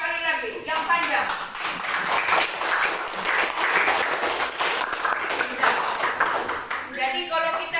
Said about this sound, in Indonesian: Tepuk sekali lagi, yang panjang.